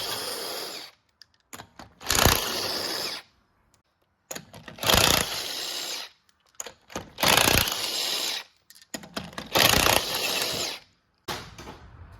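An impact wrench with a 19.5 mm socket removes the wheels of a Ford Fiesta, firing in five loud, rattling bursts of a second or so each, separated by quiet pauses.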